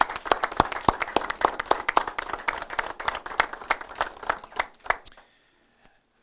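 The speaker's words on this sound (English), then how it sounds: "we ought to have a big round of applause for what they do every day" A modest crowd at Governor Scott's event with Manatee County law enforcement claps, with distinct individual hand claps in a loose, lively patter, then stops abruptly into near silence.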